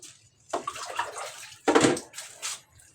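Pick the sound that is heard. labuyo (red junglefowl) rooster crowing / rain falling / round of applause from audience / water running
water running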